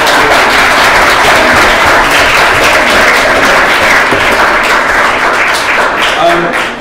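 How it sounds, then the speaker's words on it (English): Loud, sustained applause from a crowd at a debate competition, dense clapping close by with a hint of voices mixed in throughout. "A big round of applause"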